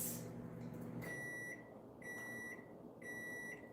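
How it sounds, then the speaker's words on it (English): Three sustained electronic beep tones from a device, each lasting about half a second, repeating at a steady pace over faint background noise. "I heard it go beep too"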